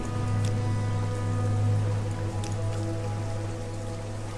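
Steady rain falls in the video game Morrowind, a continuous patter of drops over a low droning hum, with no talking.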